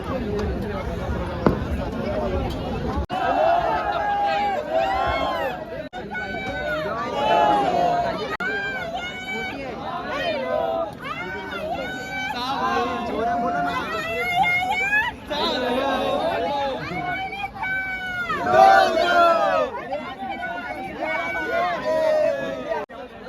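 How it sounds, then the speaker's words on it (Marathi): Dense crowd of devotees at the Ekvira temple palanquin procession, with a constant babble of voices and shouting close by, plus occasional sharp knocks. "आज पायरी मंदिर भरपूर गर्दी आहे"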